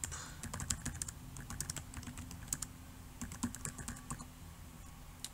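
Typing on a computer keyboard, a quiet run of irregular key clicks with brief pauses, close and alone with no talk over it.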